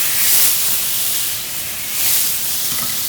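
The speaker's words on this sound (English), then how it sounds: "I'm going to deglaze the pan" A pan hisses loudly and steadily as white wine hits it for deglazing after the meat has browned, a broad steamy sizzle that swells and eases over a few seconds.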